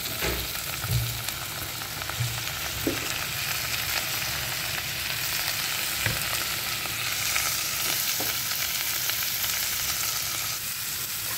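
Lettuce sizzles in hot oil in a pan alongside carrots for fried Indomie noodles, a steady loud hiss with occasional small crackles and pan clinks throughout, no talking.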